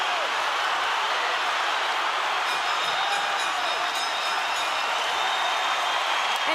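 A boxing arena crowd roars steadily throughout a professional women's title fight between Claressa Shields and Savannah Marshall, a dense, loud wall of cheering from fans on their feet with no letup.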